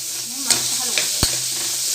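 Onions sizzle in a pan with salt as they are stirred, with a constant frying hiss and a few sharp clinks of the spoon against the pan. A voice speaks briefly underneath.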